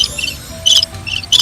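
Crickets chirp in short repeated high-pitched bursts, about four pulses in quick succession, moderately loud over a faint low background hum.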